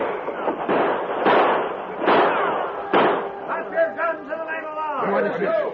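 Gunfire sound effects in a vintage radio western drama, several heavy booming shots under excited shouting voices.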